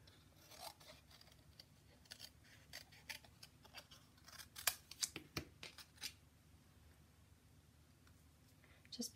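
Scissors snip through washi tape in a series of short, crisp cuts and paper rustles, close and fairly quiet, with brief pauses between snips and no talking.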